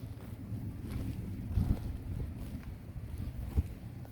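Strong seaside wind at Mongsanpo beach buffets the microphone in a continuous low rumble, with a few heavier gusts and thumps.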